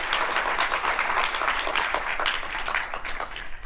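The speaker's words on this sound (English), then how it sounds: "please give a huge round of applause for her" A conference audience in Singapore claps for a speaker being introduced, a brief burst of lively applause that stays dense throughout and tapers slightly at the end.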